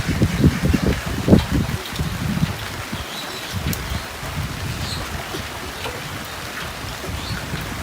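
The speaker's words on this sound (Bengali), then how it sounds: "প্রচুর বৃষ্টি, প্রচণ্ড বৃষ্টি।" Heavy pre-monsoon rain pours down on a Bangladeshi village in a dense, steady hiss. Louder gusty bursts come early, then the downpour settles into an even roar with scattered drops striking nearby surfaces.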